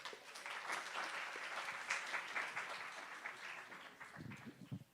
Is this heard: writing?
no